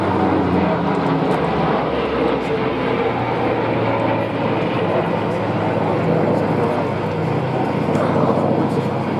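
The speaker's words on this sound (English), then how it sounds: "The Bearcat has a phenomenal climbing ability." A Grumman Bearcat propeller fighter flies at the Duxford Flying Legends air show, a loud continuous broadband engine roar holding steady throughout.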